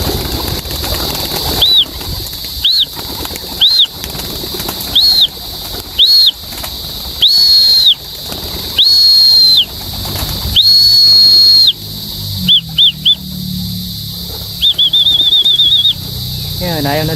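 Racing pigeons being low-flown before feeding, with repeated bursts of wing flapping and a steady high whistling tone, loud and close, heard in several pulses.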